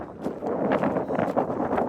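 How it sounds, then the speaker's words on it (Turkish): Steady, heavy wind on the coast of Rhodes, Greece, buffets the microphone throughout, producing a continuous rough rumble with gusty bursts. "Burayı size göstereceğim ama aşırı rüzgar var."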